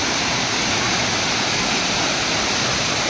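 Savdav waterfall roars in a dense, unbroken rush of falling water, loud and close, with no voices over it.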